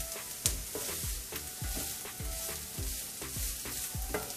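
Onions sautéing in a pan for an okra masala gravy, with a steady sizzle and a regular rhythm of stirring strokes about twice a second, close and clear, with no talking.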